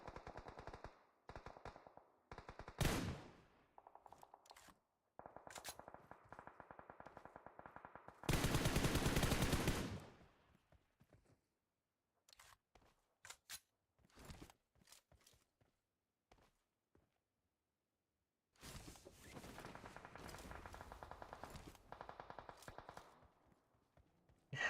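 Gunfire in an online shooter esports match, with bursts of rapid automatic shots and single reports separated by quiet gaps and faint footsteps, loud and close, with no talk over it.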